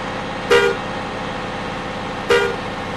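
Two short bus horn toots from Bus Simulator Indonesia V4.2, a couple of seconds apart over a steady engine hum, each a clear, fairly loud tonal blast.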